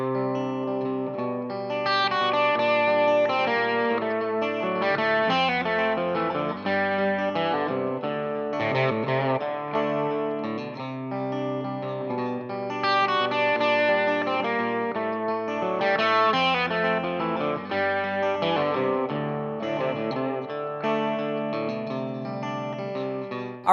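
A lead electric guitar plays a blues lick in D through distortion and chorus effects. The phrases are fast and continuous and the guitar is heard alone at a steady level, with no talking.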